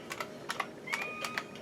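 A username typed on a computer keyboard during a Windows 7 setup, a short burst of quick, light key clicks at close range, faint and without voices.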